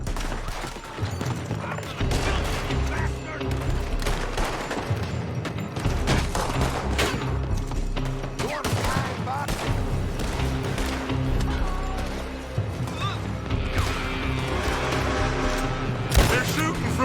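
Video game gunfire from a village, with dense bursts of shots and booms over a busy battle soundscape, while characters shout over the shooting.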